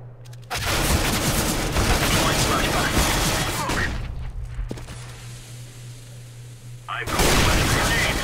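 Rapid gunfire bursts in CS:GO as a player pre-fires around a corner, loud sustained rattling shots, a pause with quieter ambience, then another burst.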